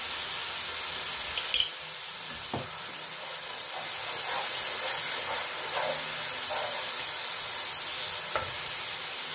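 Ginger garlic paste frying with onions in a pot for pulao, a steady loud sizzle and hiss broken by occasional clinks and stirring scrapes.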